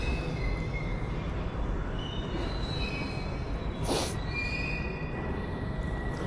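A London Underground Piccadilly Line train rumbles loudly and continuously nearby, with tonal wheel squeal and whine rising over the roar and a brief hissing burst midway.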